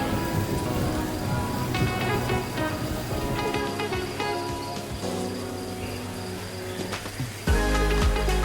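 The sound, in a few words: slight rain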